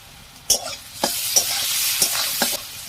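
Onion sautéing in a pan with turmeric powder, for a cabbage and snail dish, a loud close sizzle broken by several sharp spatula scrapes and stirring knocks at irregular intervals.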